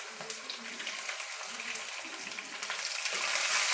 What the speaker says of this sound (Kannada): ಬೆಳ್ಳುಳ್ಳಿ ಚೆನ್ನಾಗಿ ರೋಸ್ಟ್ ಆಗಬೇಕು